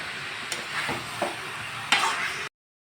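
Jackfruit being stirred into fried masala in a pan, with a steady sizzle and a few distinct scraping strokes of the spatula, close and moderately loud, ending abruptly in silence.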